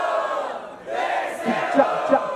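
A crowd at a Brazilian rap battle cheers and shouts together in a brief, energetic burst, voices overlapping into a loud roar.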